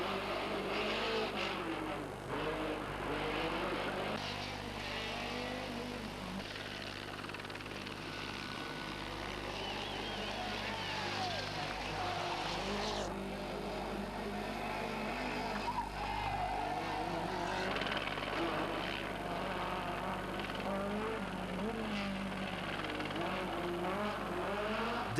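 Rally cars race on a wet, slippery stage of the 1989 Tour de Corse, including a four-wheel-drive car and a two-wheel-drive BMW, with continuous engine roar and tyre noise heard faintly under a commentator speaking French.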